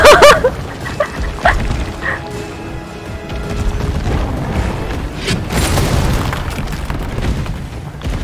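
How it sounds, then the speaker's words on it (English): Flame rounds fire in Resident Evil 3, opening with a loud burst and followed by sustained rumbling fire and blasts under the game's ambient noise. "He staggered at the flame rounds."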